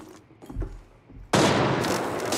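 Gunfire in the shooter game Arena Breakout Infinite: a few faint distant thumps, then a sudden loud sustained burst of rapid shots that keeps rattling to the end.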